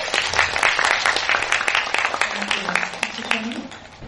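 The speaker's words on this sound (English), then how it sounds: "Can we have a round of applause?" Applause from a conference audience at a Montessori event, a dense steady patter of many hands clapping for about four seconds, fading slightly toward the end.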